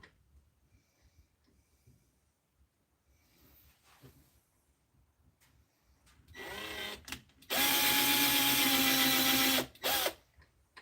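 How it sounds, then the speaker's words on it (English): Power drill boring into deer antler: after quiet handling noises, the drill whines in two bursts, the second loud and sustained for about two seconds, then a short final spurt, with no talking. "Should have brought my other drill out so I didn't have to keep on switching bits."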